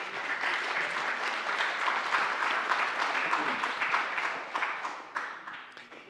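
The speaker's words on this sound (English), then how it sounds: "A little applause." A seated audience at a museum talk on NFTs gives a round of applause, dense sustained clapping that holds steady for several seconds before thinning and tapering off.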